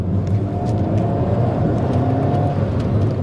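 Alpine A110 R sports car driving over rough, degraded roads in the Drôme, with a steady engine and road rumble and tyre noise that stay continuous and fairly loud throughout, with no voices.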